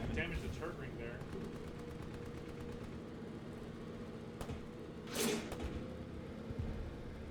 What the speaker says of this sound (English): There's a tank on the ridge that we're shelling.